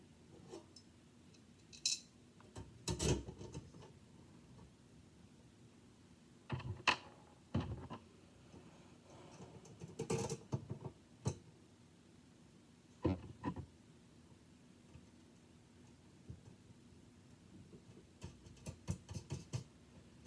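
Green plastic screws being driven by hand into a crank and slider model kit, with short bursts of scratchy turning and clicking, spaced apart with quiet pauses between them, close up.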